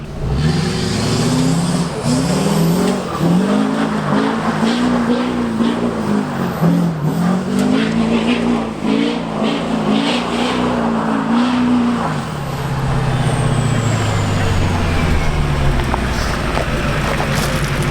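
An old truck doing donuts runs its engine hard with a loud, wavering revving drone and rough tire noise for about twelve seconds, then the pitch sinks as it eases off and keeps rumbling nearby.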